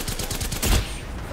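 Kraber sniper rifle shots in an Apex Legends-style competitive shooter match, a dense run of sharp gunfire cracks ending in one heavier boom near the middle, with faint voices in the background.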